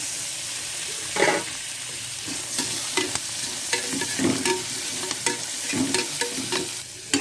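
Onion, ginger-garlic paste and tomato frying in a pan for a Chettinad mutton gravy masala, a steady sizzle broken by repeated scraping stir strokes, close and fairly loud with no voices.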